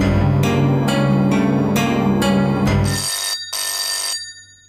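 A telephone bell rings loudly in repeated bursts, roughly five rings in a steady rhythm, then stops, leaving quieter background sound at the end.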